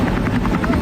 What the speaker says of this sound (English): It's a cartoon helicopter.